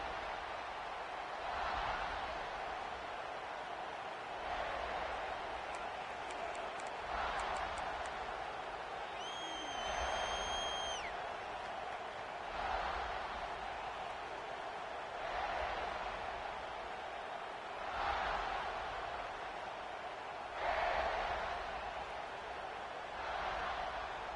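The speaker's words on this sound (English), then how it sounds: "This crowd bringing the energy and noise early." In an NCAA football video game, a stadium crowd roars in rolling swells every few seconds, a broad, distant wash of cheering beneath a commentator's voice.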